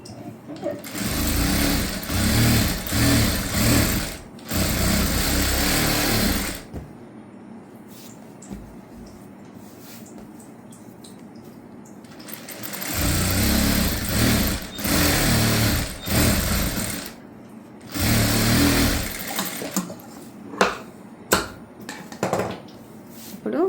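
A sewing machine stitches around the lining edges of a blouse in long, loud, rapid whirring runs, stopping for a quiet stretch in the middle before stitching resumes in several shorter bursts.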